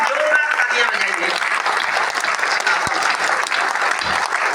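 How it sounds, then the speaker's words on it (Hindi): An audience claps steadily at a poetry recital by a poet, a thick, even wash of applause lasting a few seconds, with a faint voice near the beginning. "एक बार जोरदार तालियां बजाइए।"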